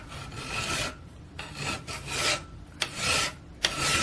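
Metal file sharpening a Morakniv Craftline Basic 511 high carbon steel blade clamped in a vise: long raspy strokes, about six of them, separated by short pauses, close and fairly loud, with no talk.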